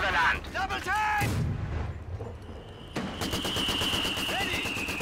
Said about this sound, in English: The bastard is shooting at us.